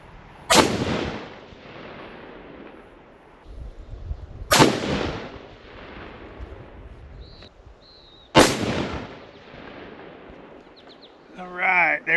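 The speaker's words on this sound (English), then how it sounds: "then I'm gonna shoot this Norma ammo" A rifle fires Norma Bondstrike 165 grain ammunition, three loud single shots spaced about four seconds apart, each booming and fading, with faint clinks between.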